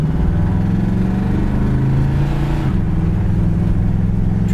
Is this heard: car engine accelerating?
yes